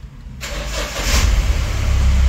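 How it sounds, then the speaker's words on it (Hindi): A Mahindra Bolero Pickup engine cranks after a brief quiet moment, catches and settles into a loud, rumbling idle that swells slightly and runs steadily to the end. "फिर से और एक बार स्टार्ट करके देख लेंगे।"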